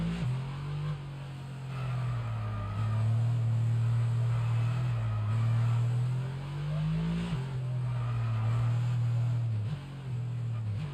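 An F1 car engine in the racing game F1 22 drones steadily and loudly, its pitch rising and dipping through gear changes and throttle shifts with no break.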